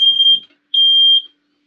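A smoke alarm set off by food burning in an oven gives two loud, piercing electronic beeps close by, with a short gap between them.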